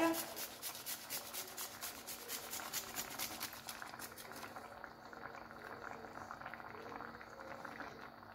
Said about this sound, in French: on va râper un peu d'ail